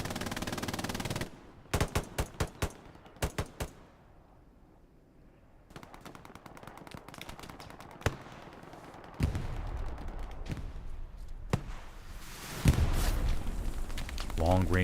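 Machine guns rattle in a WWII battle game at Elsenborn Ridge during the Battle of the Bulge, with bursts of rapid shots, a quieter lull and then renewed fire under a talking voice.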